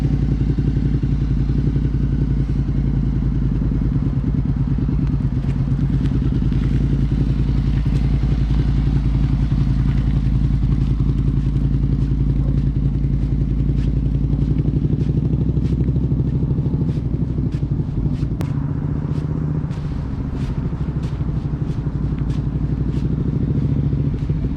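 A motorcycle engine runs steadily during a first riding lesson, throttle eased up slightly and then let back, with a loud continuous low drone and scattered clatter and thumps throughout.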